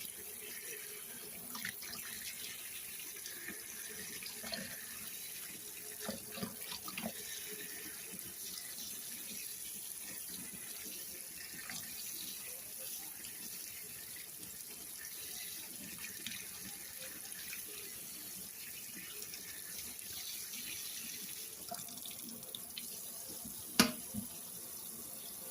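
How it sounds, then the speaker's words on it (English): Tap water running into a sink while tomato seeds are rinsed, a steady low splashing flow with occasional clinks, fairly quiet and continuous throughout. "And some water to make sure I get all the seeds out."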